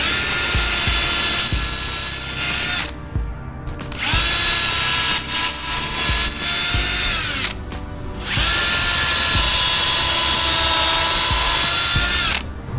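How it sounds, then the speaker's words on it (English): A power drill bores a hole straight through material while building a beach cart from a Power Wheels toy, loud high whining bursts of several seconds each, separated by brief pauses, close to the microphone. "We're gonna drill a hole straight through."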